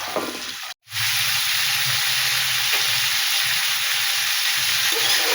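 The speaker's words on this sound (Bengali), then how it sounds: "একটু জিরে দিলাম আর এই কাঁচা লঙ্কাগুলো দিলাম এইভাবে এটা ভাজতে থাকবো ভালো করে" Cumin and green chillies frying in a pan: after a brief dropout, a loud, dense, steady sizzle and hiss holds unbroken, with faint stirring underneath.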